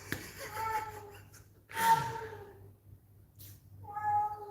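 Several insistent meows from a house cat nearby, spaced out with short pauses between them over a low background hum.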